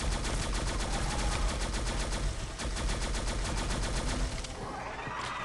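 Rapid automatic gunfire from the shooter video game Shadowgun Legends, a dense stream of loud sharp bursts with no pause for about four and a half seconds, then quieter game sounds.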